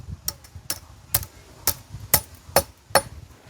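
Seven sharp hammer blows land at an even, unhurried pace, each a crisp, close knock with quiet pauses between, heard alone without talk.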